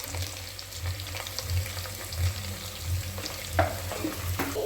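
Spices for garlic khichdi roast and fry in a pan, a steady close sizzle with soft rhythmic stirring scrapes and a couple of sharper clinks near the end.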